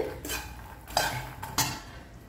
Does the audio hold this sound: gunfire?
no